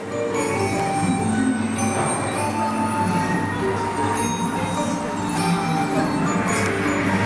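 Steady rumbling and rattling of a roller coaster train on its track at Legoland Windsor, with metallic clanks and a faint squeal, continuous and fairly loud throughout.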